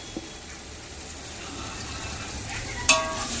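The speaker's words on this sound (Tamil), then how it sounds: "தயிர் சேர்த்துட்டு நல்லா வதக்கிறோம்." Yogurt and ginger-garlic paste sauté in a pan for chicken biryani, a soft, low steady sizzle with faint stirring, and one bright metallic clink near the end.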